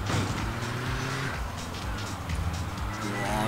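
A car drives in the video game Grand Theft Auto 2, a steady low engine rumble with road noise and a faint squeal. Someone talks over it in German.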